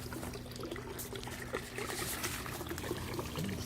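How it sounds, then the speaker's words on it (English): Water trickles steadily from a tiny garden fountain with a frog-shaped spout in a Brooklyn garden, a soft continuous pouring and dribbling sound heard close up. "It's just a little tiny thing, but it's got this cute little frog that spits out the water."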